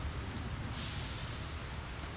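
Acid rain cloud in SimCity 3000, a steady hiss of rain-like noise with a low rumble, holding at a fairly quiet level throughout.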